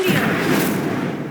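A spoken Incendio fire spell in Hogwarts Legacy bursts out as a short, loud whooshing blast of flame with crackling pops, close and brief, with a voice calling out the spell at the start.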